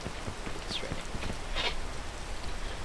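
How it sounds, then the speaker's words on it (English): Rain falls steadily outdoors, a soft, continuous broadband patter with scattered closer drops and low rumble, moderately faint and with no one talking. "It's raining."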